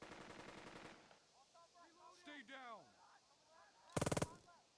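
Gunfire in the Burden of Command video game: an opening stretch of rapid automatic fire, a pause filled with a voice-like sweeping sound effect, then a short loud machine-gun burst near the end.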